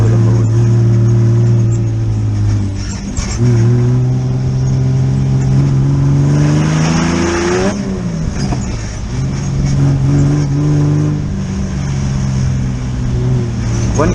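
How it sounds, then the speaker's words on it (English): An off-road vehicle's engine drones loudly at an OHV park, its pitch rising and falling repeatedly as the throttle flips on and off, close and continuous throughout. "you'll hear the throttle flipping really, really quickly"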